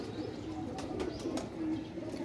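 Sialkoti pigeons coo softly, a few low throaty calls at close range over a steady background hum.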